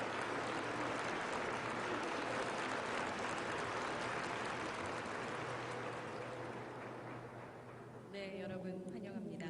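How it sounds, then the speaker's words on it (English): Broad, sustained applause fills a conference hall as the audience claps together for a long stretch, then fades near the end as a voice begins speaking over it. "let's welcome all of us with a big round of applause"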